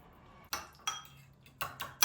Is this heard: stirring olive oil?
yes